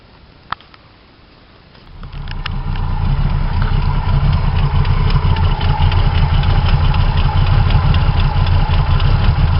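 A Monster motorcycle engine cranks and catches, then settles into a loud, steady idle that runs on without a break, close by and with no talking over it.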